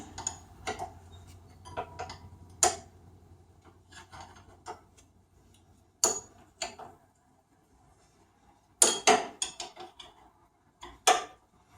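Metal wrench working bolts on the rock shaft of a Cub Cadet 682 garden tractor during a 3-point lift install: sharp, close clicks and rasping scrapes in irregular bursts separated by quiet pauses.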